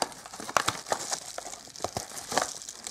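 Plastic packets from an online toy order crinkle and rustle as they are handled, with several sharp crackling bursts scattered through a close, quiet stretch with no talk.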